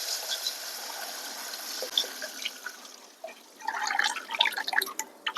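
Rasam is poured into a hot tempering in a pot, a thin liquid splashing and trickling with small dripping sounds that swell toward the end, close and moderately loud, with no speech.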